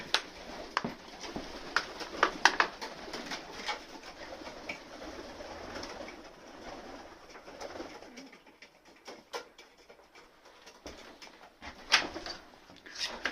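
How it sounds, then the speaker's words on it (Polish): Pigeons coo softly in a loft, with faint murmuring calls mixed with scattered clicks and rustling of wings and feet, all fairly quiet and close. "Tylko gołębie i gołębie."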